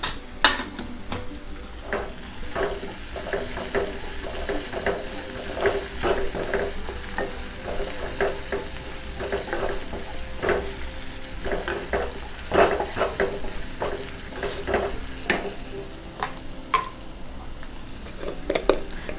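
Garlic, ginger and chili paste roasting in a pan, a steady sizzle broken by frequent clinks and scrapes of a spoon against the pan.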